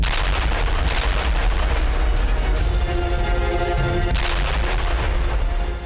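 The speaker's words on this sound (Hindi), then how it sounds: "हिजबुल्लाह के ठिकानों पर भी बम बरसाए जा रहे हैं" Bombs and heavy fire strike Hezbollah positions in southern Lebanon. Loud, overlapping booms and cracks come in quick succession with a sustained rumble beneath them, thick and unbroken for the whole stretch.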